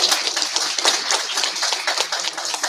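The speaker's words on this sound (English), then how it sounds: "give a well-deserved round of applause to all of you" Applause from an audience at the close of a negotiation course session, a modest group clapping in quick, uneven bursts, fairly near and without talk.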